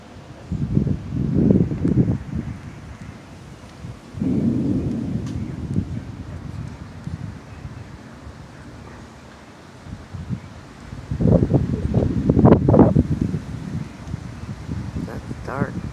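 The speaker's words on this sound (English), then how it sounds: "Storm just come in, making all kind of noise," A thunderstorm rolls in with deep, rumbling bursts of thunder and gusting wind buffeting the microphone, coming in several loud waves with quieter stretches of rain and rustle between.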